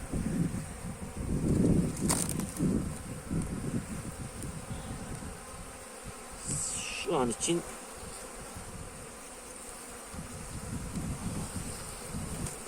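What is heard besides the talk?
honeybees buzzing at open hive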